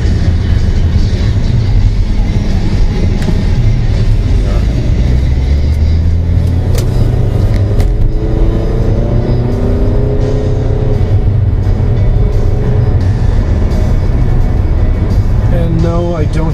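A Mercury Milan sedan drives through Kissimmee, Florida, its loud engine and road rumble filling the cabin steadily as it accelerates, with someone talking over it.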